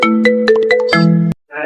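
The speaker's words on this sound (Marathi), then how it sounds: "भावा, बिग बॉस मधून रितेश दादाचा फोन आलाय" A phone ringtone sounds for an incoming call: a bright electronic melody of stepped, ringing tones, close and loud, playing on its own for just over a second before cutting off abruptly.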